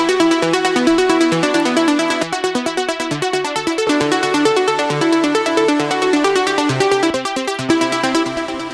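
Trance melody built from layered Diva synthesizer tracks in Ableton, a rapid pulsing arpeggiated pattern with bright harmonic stabs over a steady driving rhythm, loud and continuous.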